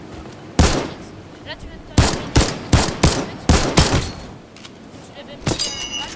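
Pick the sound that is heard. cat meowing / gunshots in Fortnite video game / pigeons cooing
gunshots in Fortnite video game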